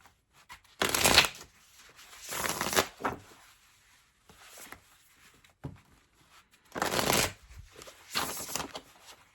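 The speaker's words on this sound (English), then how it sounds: "I'm going to pull an Oracle card now from the classic Horror Oracle" A deck of tarot-style oracle cards is shuffled in several short bursts of crisp riffling and flicking, close and fairly quiet, separated by near-silent pauses.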